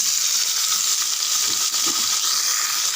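Chopped large tomatoes fry in hot oil in a pan, giving a loud, continuous close hiss and sizzle with a few faint stirring knocks underneath, no voices.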